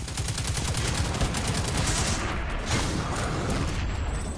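Rapid, sustained gunfire in the Destiny 2 beta's Inverted Spire strike, a dense stream of repeated shots with thumping impacts, steady and loud throughout.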